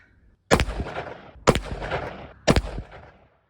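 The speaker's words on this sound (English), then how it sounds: "She's gonna be shooting these Plus P Plus rounds." Three loud, evenly spaced gunshots from Federal 38 Special +P+ HydraShok rounds fired from a 4-inch barrel, each a sharp crack followed by a short echoing decay outdoors.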